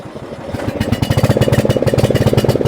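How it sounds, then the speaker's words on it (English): A Cub Cadet CC30H riding mower's engine is started with the key, throttle set to choke. It cranks briefly, then catches into a loud, steady, rhythmic chugging idle close by. "turn the key until the mower starts"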